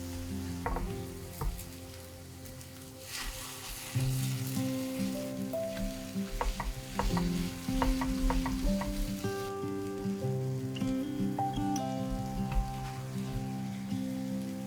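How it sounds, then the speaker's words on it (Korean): Whole tofu mashed and stir-fried in a pan while its moisture cooks off, giving a steady close sizzle with scraping and stirring knocks throughout, no talking. "두부를 통째로 넣고 으깨면서 볶으면 수분이 날아가면서 고슬고슬해지는데"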